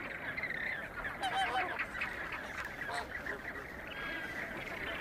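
A flamingo colony nesting on a salt pan honks and calls in a dense, continuous chorus of overlapping nasal, goose-like cries, steady and moderately loud throughout.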